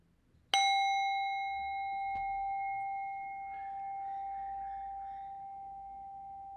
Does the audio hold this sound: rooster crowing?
no